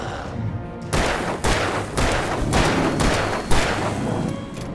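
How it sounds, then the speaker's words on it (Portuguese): Gunfire aimed at an enemy in the video game Alan Wake Remastered: a rapid run of loud, sharp shots with short gaps between them, close and punchy, over a dim ambient background with no talking. "Nossa, 12 tiros e não matou"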